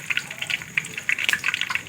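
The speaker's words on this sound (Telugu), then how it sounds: "చిక్కట్లాడుతుంది నీళ్ళు కడిగినందుకు" Washed brinjal and bitter gourd pieces hit a hot pan and sputter with quick, irregular bursts of crackling and hissing, close up and alone, with no one talking.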